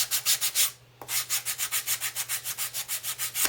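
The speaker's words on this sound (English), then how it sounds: "I'm just using a pretty smooth grade sandpaper." Smooth-grade sandpaper rubs a pumpkin's surface in quick rhythmic back-and-forth strokes, close and steady, with one brief pause near the start.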